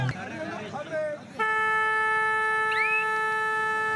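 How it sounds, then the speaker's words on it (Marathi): A steady electronic horn sounds at a district senior kabaddi match on red clay, signalling the third raid; it blares continuously over crowd noise after a brief stretch of commentary-like voices. "ज्या वेळेला भोंगा वाजतो, ज्या वेळेला भोंगा मात्र वाजत असतो त्या वेळेला तिसऱ्या चढाईचे संकेत मात्र दिले जात असतात."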